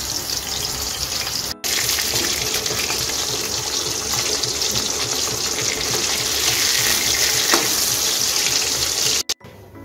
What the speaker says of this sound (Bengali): আমি একটু হালকা করে মাছটা ভেজে নেব